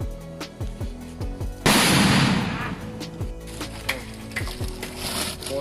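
Diwali firecrackers go off in one sudden loud blast with a crackling, hissing tail, over steady background music.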